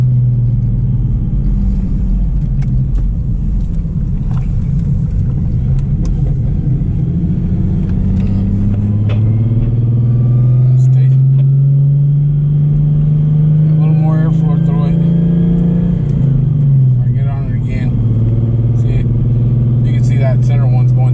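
A twin-turbo V6 car accelerating hard under boost, a loud deep engine drone rising and falling in pitch as it pulls through the gears, heard from inside the cabin with people talking over it.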